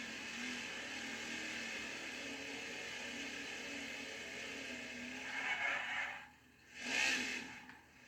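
A race car engine in a NASCAR video game hums steadily at first, then revs up in two strong surges near the end, loud and close, with no talk over it.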